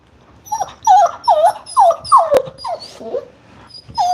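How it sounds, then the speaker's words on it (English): A young puppy whining and crying in a steady run of high, wavering whimpers repeated about twice a second, close and fairly loud with no talking. "when you first bring a puppy home, they will whine and cry for sometimes up to 2 weeks"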